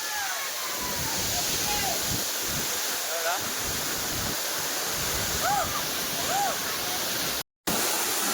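A village waterfall roars as a steady broadband rush of falling water, loud and continuous, with wind buffeting the microphone and brief distant voices over it.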